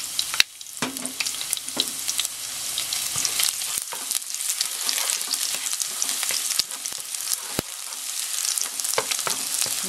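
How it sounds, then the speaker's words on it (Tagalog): Garlic frying in a tablespoon of cooking oil in a cooking pan gives a steady, close sizzle lasting throughout, with occasional sharp clicks and crackles as it is stirred. "so naglagay tayo ng 1 tablespoon of cooking oil dito sa ating cooking pan. Then dito, ilalagay natin yung ating garlic."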